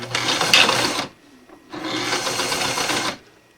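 An old sewing machine stitches camo fabric in two bursts of rapid mechanical whirring, each about a second or more long, separated by a short quiet gap.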